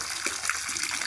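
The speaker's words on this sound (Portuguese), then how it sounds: "O barulho da água, se dá um som." Water flows into a fish pond with a steady, close hissing gush, brief and continuous.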